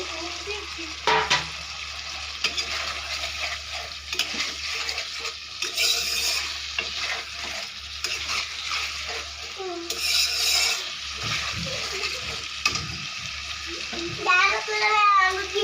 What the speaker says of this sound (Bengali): আর একটু আমি ভেজে নিচ্ছি ফুলকপি আলুটা দিয়ে মশলাটাকে